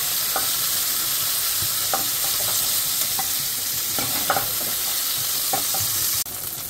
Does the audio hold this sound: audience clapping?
no